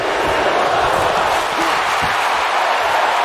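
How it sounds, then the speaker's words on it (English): A Houston wrestling crowd roars at an indie show, a dense, steady wall of cheering and applause filling the whole stretch, loud and close, with a commentator's voice faintly mixed in. "This Houston crowd appreciating Hale's efforts"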